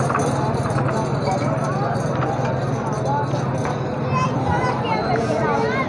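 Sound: horse hooves clip-clopping at livestock market

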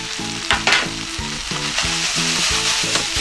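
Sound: stir-frying pork with garlic chives

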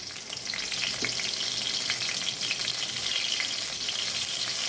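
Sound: nigella seeds and green chillies frying in oil

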